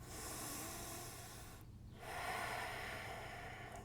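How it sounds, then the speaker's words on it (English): Deep, steady yoga breathing is heard up close during a held pose, with a long hissing exhale, a short pause, then another full breath. "3 more breaths."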